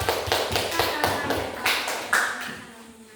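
A class of students in an Indonesian classroom claps in uneven bursts of hand claps and taps, fairly close, with voices speaking over and between the claps.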